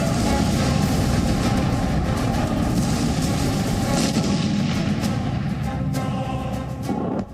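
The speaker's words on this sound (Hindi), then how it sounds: "धमाकों की शुरुआत हो गई।" Missile strikes hit Kyiv, heard as a continuous heavy rumble of blasts and booming, with a few sharper cracks rising above the din near the end; loud and sustained, with no voices.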